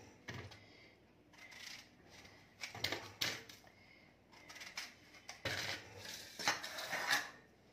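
A knife cuts an apple into four pieces on a board for apple halwa, giving a series of close, crisp chopping taps and scrapes in uneven bursts, with no voices.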